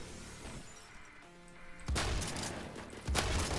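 Two heavy KS-23M shotgun blasts in the Phantom Forces game, one near the two-second mark and a second just after three seconds, each a sharp broadband crack with a short ringing tail over quiet game ambience.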